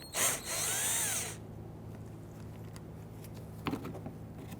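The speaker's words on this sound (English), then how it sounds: "we're now going to move underneath and remove the remainder of the Torx bit screws" A power drill briefly whirs as it backs out T20 Torx screws under a 2008–2017 Buick Enclave during a parking light replacement, one loud burst followed by quiet clicks and faint handling.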